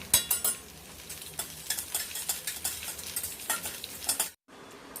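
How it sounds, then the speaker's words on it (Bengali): Mung dal frying and being stirred in a hot wok for traditional home cooking, with sharp scrapes and clinks of a spatula over a steady sizzle, close and clear, ending with a brief silence. "কড়াটা গরম হয়ে গেছে, ফার্স্টে আমরা মুগ ডালটা ভেজে নেব।"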